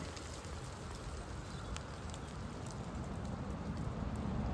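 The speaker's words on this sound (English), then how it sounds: "Rain with a side of snow. Hailstones." Irish rain mixed with hailstones falls as a soft, even hiss with faint scattered ticks of stones landing, steady and fairly quiet throughout with no voices.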